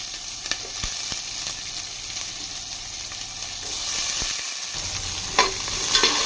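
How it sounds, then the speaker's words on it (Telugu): Onions frying in a pan with fenugreek seeds and curry leaves for a Nellore-style drumstick curry, a steady close sizzle with occasional stirring scrapes and a brief louder hiss near the end. "ఈ ఆనియన్ దూరగా ఫ్రై చేసుకోవాలండి"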